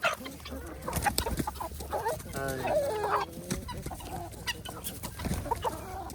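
Chickens cluck and call in a busy, continuous chorus, with a few louder squawks standing out over a steady farmyard background.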